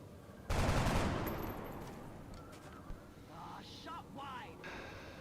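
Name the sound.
gunfire in XCOM: Enemy Within video game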